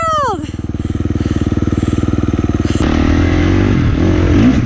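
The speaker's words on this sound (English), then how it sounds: "you'll probably have to gear down once or even twice on the way up to keep your RPMs high enough" Dirt bike motorcycle on a hill climb, engine falling from a high rev into a loud, pulsing low-gear chug, then a rougher, shifting engine drone close up.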